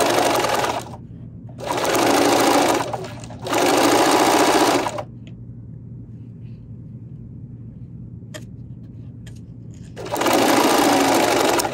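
A sewing machine with a patchwork presser foot stitches fabric in three loud, close, steady whirring runs of about two seconds each, separated by quiet gaps with faint handling clicks.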